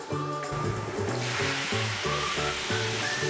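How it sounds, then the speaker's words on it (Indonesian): Catfish frying in hot oil for pecel lele, a steady crackling sizzle that grows denser after the first second and runs alongside tonal background music. "Benu mau lihat proses gorengnya dulu ah"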